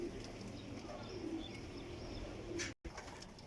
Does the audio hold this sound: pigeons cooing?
yes